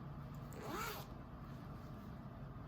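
A zipper on the front pocket of a handmade knitting project bag is pulled once in a quick, quiet rasp lasting under a second, close by against a soft room hush.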